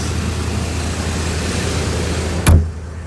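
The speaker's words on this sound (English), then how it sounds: "As you heard, the way the hood closes, nice and solid." The hood of a 1981 Corvette shuts with one solid, close thump that cuts through a steady low rumble of background noise.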